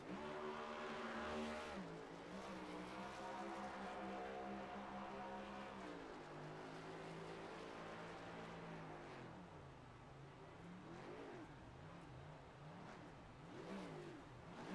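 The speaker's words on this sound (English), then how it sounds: "Josh Conover being able to do his burnout" A NORA race car at New Hampshire doing a victory burnout after winning a race with its bumper missing, its engine droning and revving in long sustained pitch sweeps, somewhat distant and steady throughout.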